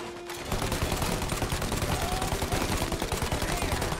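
Sustained automatic gunfire sprays at an aircraft in Mafia: Definitive Edition, a loud, rapid, unbroken rattle of shots starting after a short quiet opening and continuing to the end.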